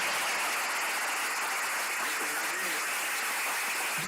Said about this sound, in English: First of all, can we give Seneca a hand?